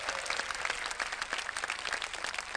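Studio audience at a televised rap battle competition applauds a beatboxer, a dense burst of many hands clapping rapidly and fairly close, sustained evenly throughout with no voices over it.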